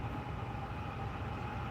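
A Norfolk Southern freight train hauling loaded containers rumbles past with a steady low roll and rattle, fairly faint and distant, with no voices.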